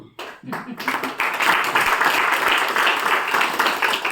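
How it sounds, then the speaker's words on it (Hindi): A gathering at a Brahma Kumaris spiritual session claps together, close and loud, with brisk, dense handclaps that begin after a short pause and keep up steadily throughout. "हमको ताली बजती है।"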